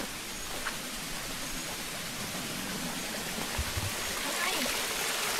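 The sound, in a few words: flowing stream water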